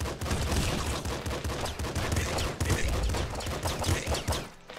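Rapid, dense gunfire from the video game Nuclear Throne rattles almost without pause, loud and close, with volleys of shots stacking over one another and no talking.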